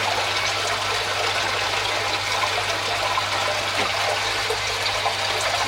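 Water gushes steadily into the moving bed section of an aquarium protein skimmer, a continuous close, loud rushing and splashing with a low pump hum beneath and no talking.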